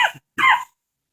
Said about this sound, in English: Sorry, a little bit of a cough.